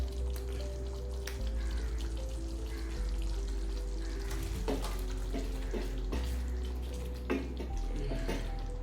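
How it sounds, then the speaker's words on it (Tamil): Tamarind rice mixture for puliyodharai bubbles and sizzles steadily in oil on the stove, a continuous close frying hiss broken by occasional pops and light stirring clatter. "நல்லா கொதி வந்துச்சு, எண்ணெய் மேலே திறந்து வருது"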